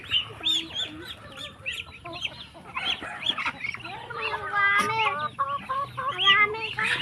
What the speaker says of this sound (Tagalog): Yung mga chicken, bigyan mo rin.